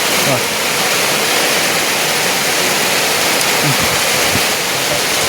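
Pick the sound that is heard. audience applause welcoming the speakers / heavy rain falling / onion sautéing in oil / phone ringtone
heavy rain falling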